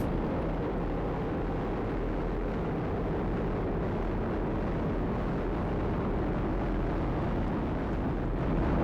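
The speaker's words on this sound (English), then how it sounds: "Beautiful shot there showing the VAB and the rocket lifting off" SpaceX Falcon 9 rocket with nine Merlin engines lifting off, a dense continuous low roar heard from a distance, steady and rumbling throughout with no voices.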